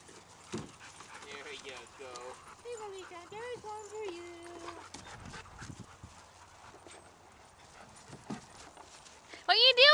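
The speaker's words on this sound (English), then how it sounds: "Having fun with the puppies?" Puppies play at a dog park during a birthday gathering, giving occasional yips, whimpers and panting while people chatter around them, with a louder burst of sound at the end.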